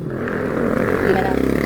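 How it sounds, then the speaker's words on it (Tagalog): A motorcycle engine idling and revving nearby, a loud low rumble with a faint rattle, likely outdoors on a street. "Ayan yung motor namin."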